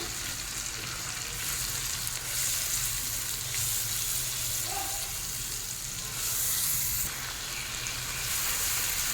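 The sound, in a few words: chopped onion frying in oil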